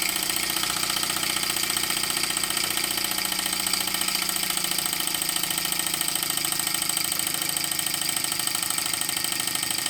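A small live-steam model traction engine, a Mamod Centurion, drives a fan, chugging steadily with a fast, even mechanical rhythm and a hissing, rattling texture, running continuously and close by without pause.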